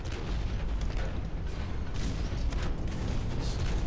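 Grenade blasts from a heavy mech in the Hawken video game, a steady, loud barrage of booming explosions and rumbling mechanical noise filling the whole stretch with no talk.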